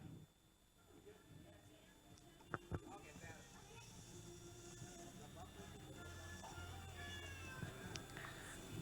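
Cats meow faintly at a cat festival held at a pet shop in Purwokerto, with a couple of brief sharper calls standing out against a low murmur of crowd talk and room noise.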